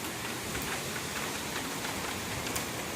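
Heavy rain pours steadily during Hurricane Matthew onto a home patio, a dense, constant hiss of drops with occasional louder ticks and splats close by.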